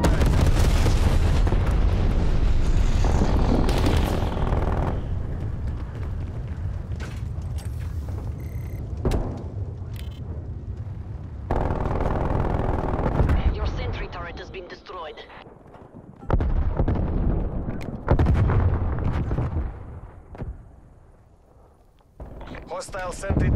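Loud, rumbling explosions from a napalm strike mixed with gunfire in the video game Call of Duty Black Ops Cold War, in dense bursts broken by short lulls, with in-game voices and a player talking over them.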